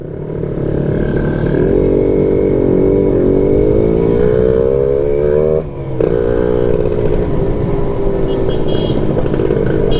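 Motorcycle engine breathing through an aftermarket exhaust with a tuned, fake-stock style muffler, revving loud and close with rising and falling tones, a brief dip near the middle.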